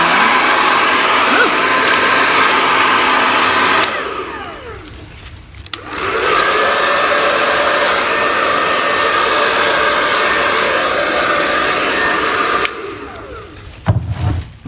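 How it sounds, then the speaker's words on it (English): A hair dryer blows loudly and steadily over wet fluid acrylic paint, cuts out for about two seconds, then roars again before switching off near the end. "Use the hairdryer."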